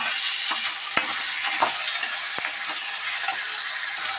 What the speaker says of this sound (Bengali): আদা রসুন বাটা এক চামচ হাত দিয়ে দেবো টমেটো কুচি দিয়ে ভালোভাবে নেড়ে নেবো